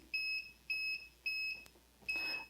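Mondial Family IV air fryer control panel gives four short, clear electronic beeps at a steady rhythm, close and alone in a quiet kitchen.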